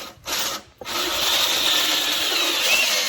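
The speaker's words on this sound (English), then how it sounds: "every time you're putting in a TopLoc screw or a SIDELoc screw or a ConceaLoc screw or a hidden fastener" A power drill drives a TimberTech TopLoc screw into a decking board. Two short bursts are followed by a sustained, close, loud whirring grind, with no talking.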